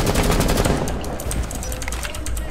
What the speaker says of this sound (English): Yes, Acro, shoot through the wall here.